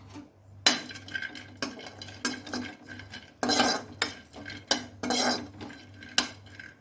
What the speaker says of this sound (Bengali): কাজু বাদামগুলোও ভেজে নেব এভাবে